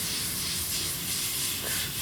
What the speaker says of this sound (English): First of all I'm going to spray it on the paper just to see how it's spraying